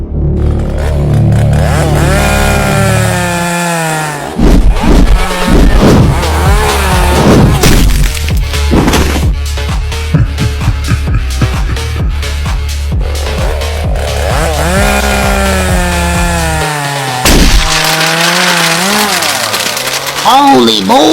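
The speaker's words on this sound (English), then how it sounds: "He picked up his chainsaw!" Chainsaw engine in a cartoon comedy, revving and sputtering in loud bursts over lively background music, with shouting voices and thuds around it.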